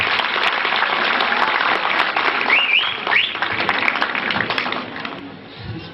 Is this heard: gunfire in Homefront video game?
no